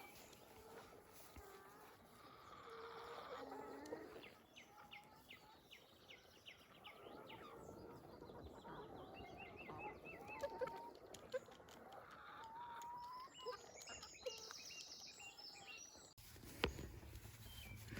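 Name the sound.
free-ranging farm chickens clucking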